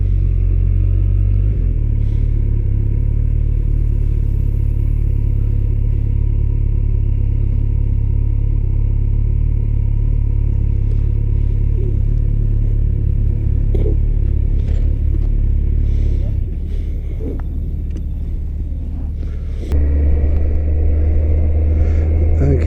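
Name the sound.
car driving and parking in a car park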